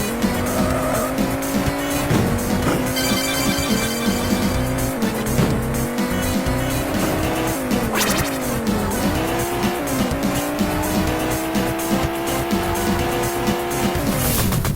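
Race cars in the arcade game ATR squeal and skid through drifts, with sliding engine tones rising and falling over a dense, loud electronic soundtrack and crash impacts.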